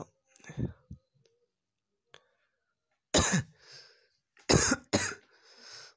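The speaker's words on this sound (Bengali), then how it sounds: "বন্ধুরা আমার একটু কাশি হচ্ছে" A man coughs several times in short, loud bursts at close range, with quiet gaps between them and a little throat noise.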